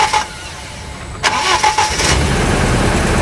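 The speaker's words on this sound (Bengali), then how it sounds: "একটু ইঞ্জিনটা অন করেন তো দেখি" A 1998 Toyota Hiace with a 1RZ 1998cc LPG engine cranks briefly and catches, settling into a steady idle nearby, with no one talking.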